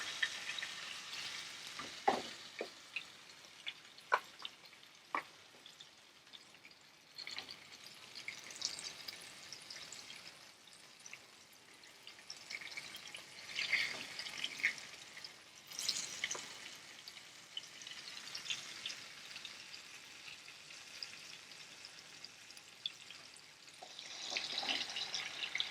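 Pomfret fish frying in a pan, a faint crackling sizzle with scattered pops and stirring scrapes, quiet and close throughout.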